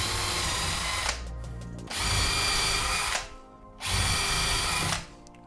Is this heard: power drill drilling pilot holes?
yes